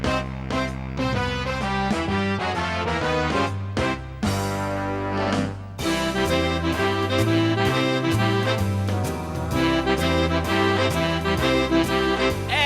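A big band swings, full horns and rhythm section playing loud and dense with a brief break mid-phrase before the ensemble returns strongly.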